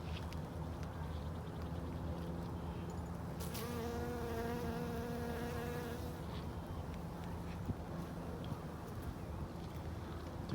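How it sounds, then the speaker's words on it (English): Honeybees hum around blooming Ceanothus flowers outdoors, a faint steady buzzing with one insect drifting closer and louder for a few seconds amid quiet ambient rustle. "I don't see any native pollinators, but lots of honeybees"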